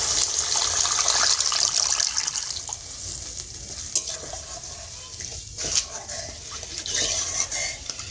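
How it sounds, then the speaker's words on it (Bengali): A little water is poured into a pan of sizzling veg Manchurian to make gravy, giving a soft hiss and bubbling with light stirring clinks, fading after the first few seconds. "এবার এর মধ্যে দিয়ে দেবো অল্প একটু জল গ্রেভির জন্য।"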